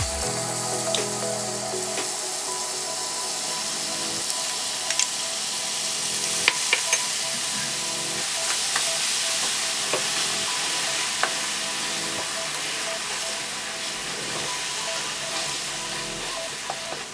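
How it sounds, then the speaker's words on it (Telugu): Mustard seeds, fenugreek powder and garlic paste sizzle in hot oil for a Telangana-style mango pickle, with a steady crackling fry broken by repeated stirring scrapes and spatula clicks. "ఆయిల్ వేడైన తర్వాత ఆవాలను యాడ్ చేసుకోవాలి మెంతి పౌడర్ కూడా యాడ్ చేసుకుందాం అలాగే వెల్లుల్లి పేస్ట్ కూడా యాడ్ చేసుకుందాం"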